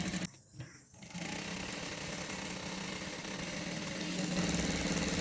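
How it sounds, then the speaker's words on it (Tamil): A sewing machine runs steadily, stitching a saree blouse, after a brief pause and start, with a continuous close mechanical whir. "இங்கே இருந்து அப்படியே 1/4 இஞ்சியில் அப்படியே தைச்சு கொண்டு வரேன்"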